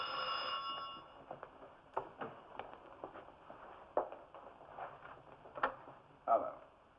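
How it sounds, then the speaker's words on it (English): An old-style telephone bell rings once at the start, then gives way to quiet room sounds with soft clicks and knocks in a film scene. "you can answer the phone"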